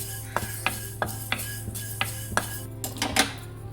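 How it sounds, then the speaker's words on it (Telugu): Ingredients for tomato pickle dry-roast in a pan while a spatula stirs, giving about nine close, sharp knocks at a steady beat over a low, constant hum. No one speaks. "ఇలా కొద్దిగా బ్రౌన్ కలర్ వచ్చేసాయండి ఆ విధంగా రోస్ట్ చేసుకోవాలి"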